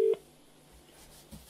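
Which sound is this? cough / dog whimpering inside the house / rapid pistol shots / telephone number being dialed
telephone number being dialed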